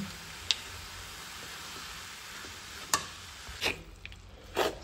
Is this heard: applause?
no